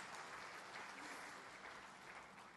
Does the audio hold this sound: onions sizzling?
no